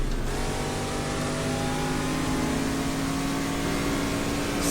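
Ferrari GT250 race car engine in GT Legends, a steady mid-pitched drone under load that holds a continuous tone, moderately loud and alone without talk.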